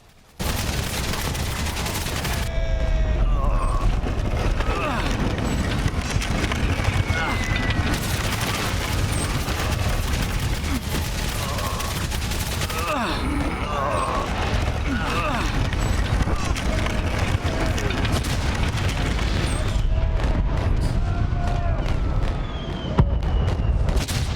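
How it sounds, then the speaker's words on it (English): Gunfire and bombs in the Valiant Hearts: Coming Home video game, with a constant dense barrage of shots and booms throughout, while someone talks over the battle noise. "you do, once again, need to stop sometimes just to avoid the gunfire and any of the bombs that are about to hit"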